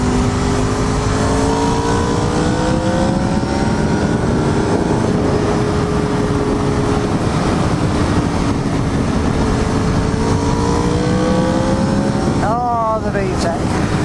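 A Honda engine roars and climbs steadily in revs as the VTEC engages during a motorcycle ride, heard loud and close under constant wind noise, with a voice shouting briefly near the end.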